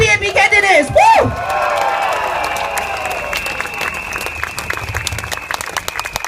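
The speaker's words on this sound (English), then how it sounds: "Big round of applause for our PAP candidates." Crowd at a Singapore political rally for People's Action Party candidates bursts into cheering, whoops and clapping, loud and close at first with a shouted voice, then settling into sustained applause.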